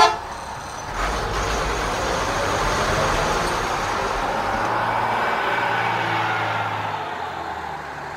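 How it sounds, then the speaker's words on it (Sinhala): Road traffic rolls past with engines droning and a car horn tooting, a steady close wash of vehicle noise that swells and fades slightly, no voices. "පාරේ වාහනවල හඬ මට හොඳින් ඇසෙයි"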